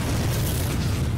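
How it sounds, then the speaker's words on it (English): A Nova explosion power from the City of Heroes video game rumbles as a loud, continuous low boom that fills the whole moment without a break. "you have an explosion, like a Nova"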